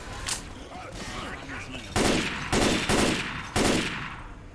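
Rapid bursts of gunfire in the video game Left 4 Dead 2, four loud close volleys in a row over a busy background of game noise and faint chatter.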